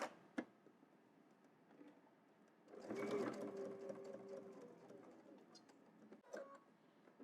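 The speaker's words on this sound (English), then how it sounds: "now I'm going to stitch directly into the corner" A sewing machine runs in a steady mechanical burst as it stitches into the corner of a pattern piece, starting after a few quiet seconds and stopping near the end, with faint handling noises before and after.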